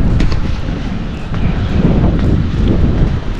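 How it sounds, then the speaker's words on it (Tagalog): Strong wind buffets the microphone outdoors, a steady loud low rumble with gusts that swell and ease throughout, with no other clear sounds. "Grabe, medyo malakas pa rin ang hangin na yun."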